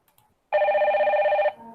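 A telephone ring sound effect plays in a PowerPoint interactive quiz, starting after a short silence as a steady, loud, buzzing electronic trill lasting about one second, with faint room noise after it.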